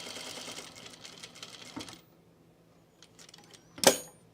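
Sewing machine stitching layers of fabric for a jumpsuit, a short close rattling run of needle strokes that stops, followed by a pause, faint mechanical clicks and a sharp snap near the end.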